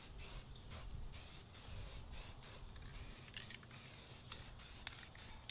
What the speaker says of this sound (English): on simple little projects like this, you know, a spray can's gonna be just fine